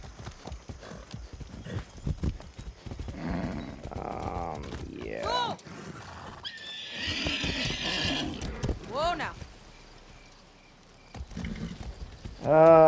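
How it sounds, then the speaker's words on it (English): In the video game Far Cry 6, a horse whinnies and neighs several times amid steady clip-clopping hooves, with players talking over much of it. "I'm hoping the horse can go in the water a bit."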